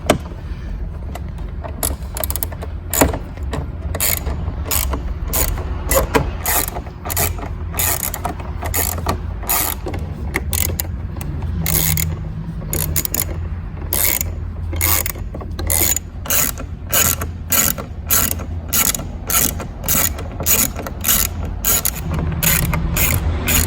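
A ratchet clicks rapidly in steady bursts while removing screws from the radio faceplate of a 2005-2009 Ford Mustang, close and distinct with no talking.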